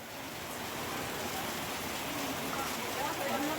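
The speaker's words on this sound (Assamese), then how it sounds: "ডবল পেটা বৰষুণ দিছে দেই" Heavy rain pours down steadily, a dense, even hiss of drops on surfaces that stays loud and unbroken from start to finish.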